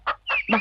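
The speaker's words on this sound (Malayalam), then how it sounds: "എന്നാ വലിപ്പമായി കോഴിക്കൊക്കെ" Chickens give three short, close clucks in quick succession, one a little higher and more squawk-like.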